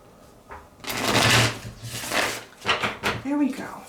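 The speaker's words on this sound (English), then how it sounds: "Sometimes this deck is so difficult to shuffle." A tarot deck being shuffled in the hands, a run of riffling, papery flutters and soft card slaps coming in bursts, close and fairly loud, with a voice heard briefly alongside.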